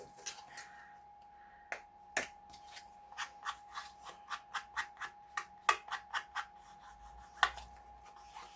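Scissors snip through paper book pages in a rapid run of crisp, close, quiet cuts, coming first in a few separate snips and then in a quicker even rhythm over a faint steady hum.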